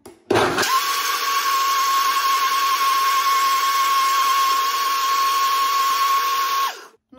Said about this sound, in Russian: Теперь это ставим на блендер.